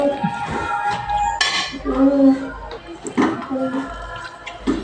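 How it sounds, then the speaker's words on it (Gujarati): Pigeon peas for masala pulao tumble into a metal pan with clinking and rattling spoon knocks, close and fairly loud, mixed with kitchen clatter and a voice talking over it. "પછી તુવેરના દાણા નાખી દઈશું"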